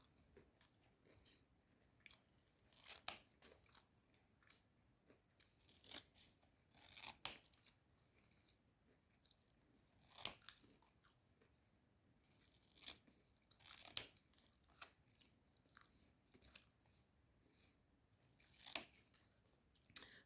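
Scissors snip through paper to cut out prop notes, with faint, close crisp cuts at irregular intervals and soft paper rustling between them over quiet room tone.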